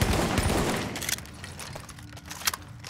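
Marksman rifle fired repeatedly in The Division video game, a loud burst of rapid shots at first that thins into scattered, fainter cracks, with one sharp shot near the end.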